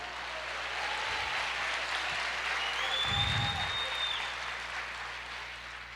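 Church congregation applauding during a worship service, a steady sustained wash of clapping throughout with a brief swell of low crowd noise near the middle.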